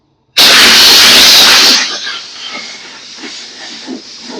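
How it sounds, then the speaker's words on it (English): A loud close hissing blast of compressed air drying an old Pontiac wheel after brake cleaner, lasting over a second, then quieter rustling and handling noises. "And then one more shot of air to dry up any residual"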